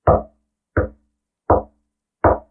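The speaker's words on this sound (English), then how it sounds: "and then 4 loud knocks" Four loud, sharp knocks, evenly spaced about three quarters of a second apart, with silence between them.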